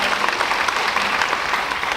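A conference audience at an early childhood education leadership keynote applauds steadily in a dense, even wash of clapping with no clear cheering.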